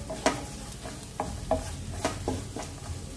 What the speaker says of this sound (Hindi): हल्का हल्का इस तरह से भूनेंगे